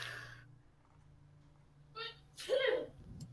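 A single short sneeze bursts out near the end, close and fairly loud, following a quiet stretch with a low hum and faint breathing during a live Dungeons & Dragons game session.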